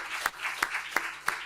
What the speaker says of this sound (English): Let's start by giving a clap